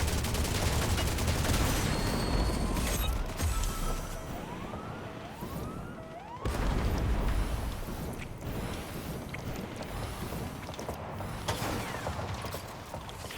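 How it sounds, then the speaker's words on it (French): Rapid submachine gun fire in the Fortnite video game comes in dense bursts over busy game sound effects, with sweeping rising tones in the middle and a brief drop before the firing resumes. "il spamme la mitraillette, bah moi aussi, je la spam"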